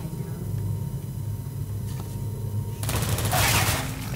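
Portal 2 turrets fire in a video game, a loud rapid burst erupting near the end after a quieter stretch of game ambience.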